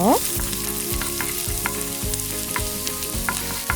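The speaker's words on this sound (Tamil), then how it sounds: "எண்ணெய் சூடானதும் வெட்டி வச்ச உள்ளியை போட்டு மிக்ஸ் பண்ணுங்க." Chopped garlic sizzles steadily in hot olive oil in a pan, close and loud, while a utensil stirs it in regular scraping strokes roughly every half second.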